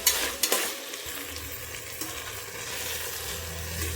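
Brinjal and potato pieces sautéing in a hot pan, a steady soft sizzle with a few sharp stirring scrapes near the start, close and moderately loud with no voices.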